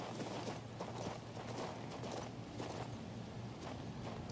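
Hooves clip-clop at a steady walking pace in the video game King's Bounty 2, soft and continuous under a faint background hum, with no talking.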